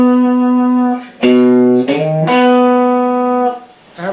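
Electric guitar riff, played up close as a lesson example: sustained, distorted notes with a slide between pitches, moving through a few distinct phrases.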